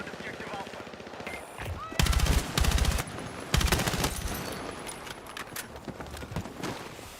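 Light machine gun fire in Battlefield 6 comes in loud, rapid bursts with pauses between them, amid other battlefield noise and a voice talking.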